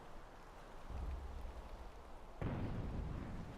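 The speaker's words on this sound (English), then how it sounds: "Maybe some Banshee shots coming out from the Stormbreaker." Banshee shots fired from the Stormbreaker ship in a space battle video game, heard as a low rumbling, rain-like barrage with a sharper burst of impacts partway through, steady and moderately loud with no talk.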